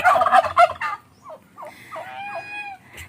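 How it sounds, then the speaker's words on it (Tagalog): A single goose on a Philippine duck and salted-egg farm honks in a short series of nasal calls close by, following a brief burst of louder honking at the start. "Meron kaming nag-iisang gansa."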